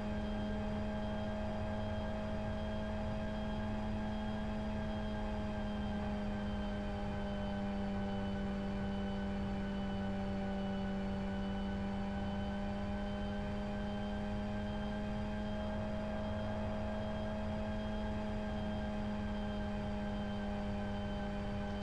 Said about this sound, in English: sounds like an alarm going off the engine at this rev range, doesn't it?